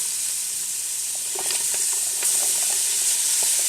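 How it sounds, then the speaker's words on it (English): Vegetables fry in a dark roux for gumbo, giving a steady close sizzle and hiss with scraping spoon strokes as they are stirred. "Once you add your vegetables, you just keep stirring it."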